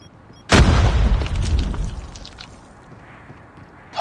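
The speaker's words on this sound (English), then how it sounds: "Semtex out!" A Semtex grenade from the Call of Duty video game detonates in one loud, sudden boom, then a rumbling tail that fades over a few seconds, with no voices.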